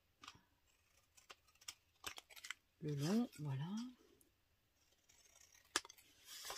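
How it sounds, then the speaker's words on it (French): Paper cut with scissors for an autumn scrapbooking flipbook, a few short snips spread across the moment, fairly faint, with someone talking over and between them. "après vous pouvez découper soit avec les ciseaux"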